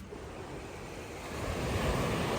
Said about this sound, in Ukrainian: Сьогодні теж і хвилі